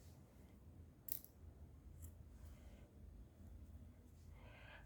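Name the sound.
scissors cutting off yarn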